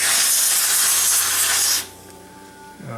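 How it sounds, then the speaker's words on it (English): A loud, steady hiss of aerosol spray is aimed at the circuit board of a Panasonic AG1970 VCR, lasting nearly two seconds before cutting off and leaving a low electrical hum. "if I spray down this board again is what's going to happen"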